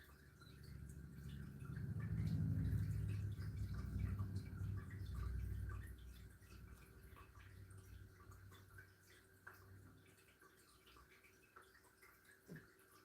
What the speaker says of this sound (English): Cat fountain is loud. I don't know if y'all can hear it with the running water in the background.